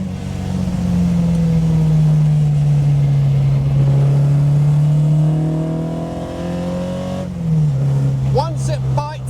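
An Alfa Romeo GTAm shifts into fifth gear and accelerates, its engine droning loud and steady with a rising then falling pitch. A brief break marks the shift, and someone speaks over it near the end.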